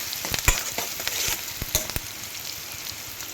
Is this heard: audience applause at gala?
no